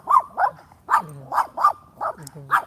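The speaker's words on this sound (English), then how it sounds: "That was my dog barking at these two people." A dog barks repeatedly at two passing people during a morning walk, seven or eight sharp close barks in quick succession, with a person murmuring briefly.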